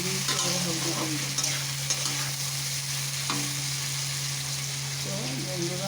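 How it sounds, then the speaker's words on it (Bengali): Pointed gourd fries in a pan with onion, garlic, salt and turmeric, giving a steady close sizzle broken by stirring scrapes over a constant low hum, with a voice speaking at times. "পেঁয়াজ রসুন ফোড়ন দিই, পটল ভাজা করছি।"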